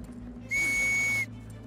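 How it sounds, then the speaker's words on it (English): A police constable's whistle blown once in a single steady shrill blast lasting under a second, loud and clear over a quiet background with no talk. "So he blew his whistle."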